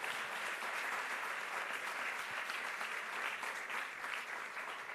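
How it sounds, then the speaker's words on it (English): An audience at a school education town hall with the mayor gives a sustained round of applause, a dense, even wash of many hands clapping with no talk over it. "Let's give them a big round of applause."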